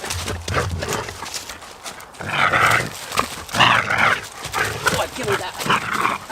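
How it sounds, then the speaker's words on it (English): A dog barks and growls excitedly in play at an off-grid log cabin campsite, bursts of noisy barking coming close and loud in repeated clusters, with a person talking in between. "Dog's going crazy."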